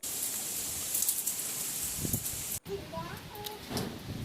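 Rain falls steadily outdoors on a rainy day, a dense, even patter nearby. Briefly it drops out, then continues with faint voices and some light tapping over it.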